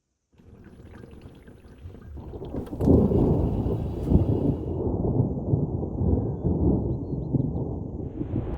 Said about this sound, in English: Another storm is clearly on its way.